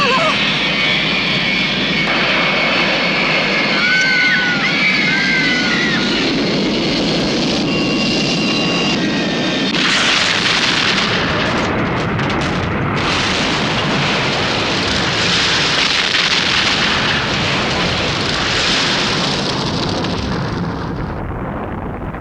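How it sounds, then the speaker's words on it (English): Plane crashing into a tower block, a 1970s disaster-film effect from The Medusa Touch: a loud roaring aircraft engine with descending whines, then a sudden broad crashing burst that rumbles on under layered noise. "he looks out of his window and steers a plane into a tower block"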